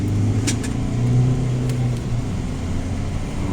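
A VW Touran 1.6 TDI diesel tuned to about 150 horsepower drives along the road, its engine and road noise a steady low drone heard from inside the car at speed.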